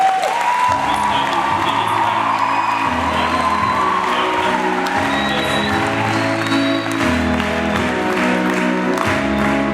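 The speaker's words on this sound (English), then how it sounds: "put our hands together as we celebrate our God" Church congregation clapping and cheering during a sermon service, loud continuous applause with whoops and shouts, while a sustained keyboard or organ plays chords underneath throughout.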